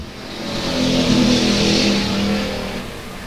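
Race cars at South Texas Speedway roar past during a race, a loud engine drone swelling toward a peak in the middle and easing off, with harsh revving tones and no talk over it.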